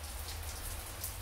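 Heavy rain pours down in front of a house, pooling into puddles, a steady, dense hiss of falling water with no voices.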